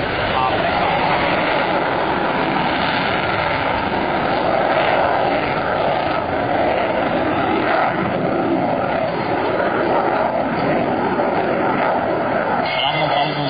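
Loud, steady roar of MiG-29 jet engines at an airshow, a continuous dense rumble that holds without a break from start to finish, with a voice talking faintly over it.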